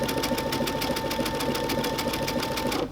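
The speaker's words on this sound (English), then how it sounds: "And now I'm going to just continue sewing on to my curved edge." Sewing machine running steadily as it stitches along a curved raw edge with decorative stitches, a fast even needle rhythm, close and loud throughout, stopping just at the end.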